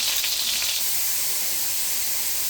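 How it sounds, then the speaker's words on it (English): Onions sizzle in sausage and bacon grease in a skillet, a steady close hiss and crackle of frying that runs on without pause. "And then I'll put the onions in and saute the onions."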